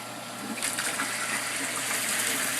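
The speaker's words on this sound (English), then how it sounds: "Weir just started." Water starts spilling over a garden pond weir, its rushing swelling after a brief moment into a steady, fuller gush with no voices.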